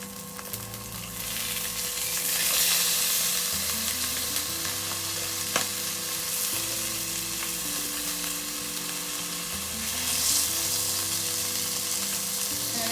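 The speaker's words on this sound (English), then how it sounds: "Again, we're going to grill it for another 5 minutes." Pork belly samgyeopsal sizzles steadily in a pan on a Xiaomi Mijia ZHF4018HK induction cooker, a continuous close frying hiss with faint crackles and a steady electronic hum underneath, no talking.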